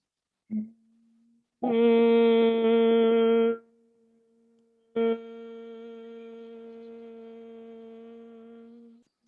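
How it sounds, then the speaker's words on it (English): A closed-lip yoga Om hum is held by a single voice, a brief short hum followed by two long sustained steady tones, loud and close with a clean harmonic drone and silence between. "exhale out, creating that humming sound, or like Om with the lips together"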